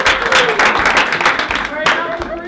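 An audience claps and cheers for a student after a Thanksgiving turkey-gobble imitation contest, a dense, lively burst of applause that runs steadily throughout with crowd voices mixed in.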